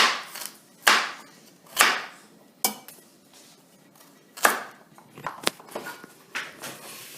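Vegetables being cut for albondigas soup produce sharp knife knocks on a board, a handful of spaced loud chops followed by quicker lighter taps and clatter, close up with no voices.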